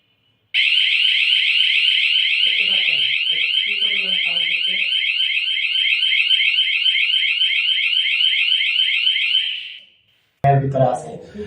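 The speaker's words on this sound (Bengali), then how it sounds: "এই অ্যালার্মের সাউন্ড একটা অ্যাম্বুলেন্সের সাউন্ড যে পরিমাণ, ঠিক সেম এই পরিমাণ সাউন্ড এই অ্যালার্মের ভিতরে।" An AI CCTV camera's alarm blares a loud, steady, warbling siren much like an ambulance for about nine seconds, with a voice speaking underneath; it cuts off and then starts again.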